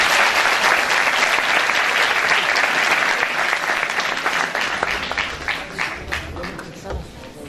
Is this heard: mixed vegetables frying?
no